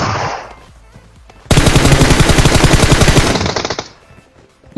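An M4 rifle fires in PUBG Mobile, a loud rapid burst of automatic shots lasting about two seconds that rings out and fades, with faint game ambience before and after.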